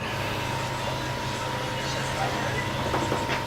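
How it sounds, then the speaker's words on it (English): Steady low mechanical hum of an air compressor filling the air suspension on an Infiniti Q50 in a garage, a continuous drone with a faint tonal whine, moderately quiet throughout. "It's a quiet compressor too, dude"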